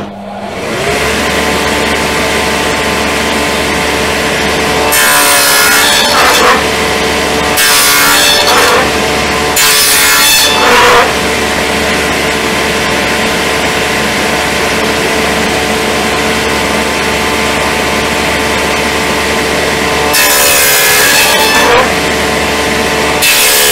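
A table saw fitted with a dado stack, with plywood pushed through on a miter sled, gives a loud, sustained motor drone broken by several rough, grinding cutting bursts; no one speaks.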